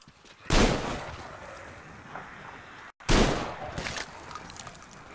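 Two heavy shotgun blasts in the video game Metro Exodus, each a loud booming crack followed by a rolling decay, spaced about two and a half seconds apart.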